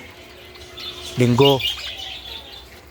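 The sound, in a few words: pet chickens or chicks chirping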